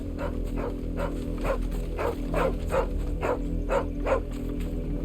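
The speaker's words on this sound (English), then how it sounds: "What are you barking at?" Dog barking in Final Fantasy XVI, a steady run of about a dozen evenly spaced barks over a constant ambient game hum, moderately close with no talking.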